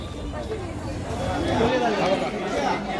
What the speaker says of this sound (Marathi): आज मासळी बाजारात थोडीशी गर्दी दिसतात